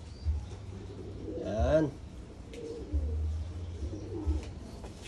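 Japan bird pigeons, a cock and hen, coo in low repeated bursts up close, with brief chirpy calls and a short spoken word in between.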